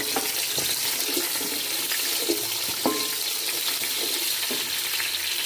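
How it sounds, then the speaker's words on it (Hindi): Chopped onions frying in hot oil with cumin and curry leaves in a pan: a continuous, fairly loud sizzle, with a few soft clinks and stirring scrapes mixed in. "अब इसमें हम प्याज डालेंगे और प्याज को हम फ्राई कर लेंगे।"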